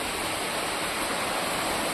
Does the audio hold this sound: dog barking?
no